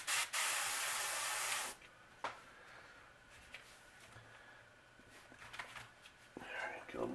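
Spray paint hisses through a stencil in one loud, steady burst laying down a nebula colour pattern, then short light taps and rustling follow with quiet talk.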